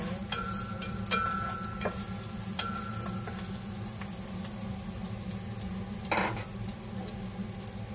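Garlic frying in oil in a pan while cooking spicy chicken feet adobo, a steady close sizzle broken by a few sharp clinks and a louder crackling burst near the end, no talk.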